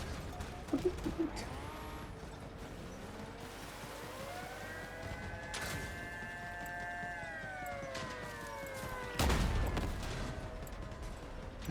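Weapon fire in the vehicle combat game Crossout, a few sharp impact bursts over sustained tonal machinery whine and rising pitched engine tones, with a louder burst near the end.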